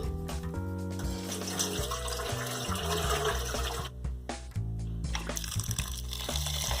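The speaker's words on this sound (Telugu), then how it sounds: "ఐదారు సార్లు కడిగిన తర్వాత ఈ వాటర్ మొత్తం వంచేసుకోవాలి" Rinse water for dosa batter ingredients pours and splashes out of a container, a continuous gushing rush that sputters and gurgles toward the end.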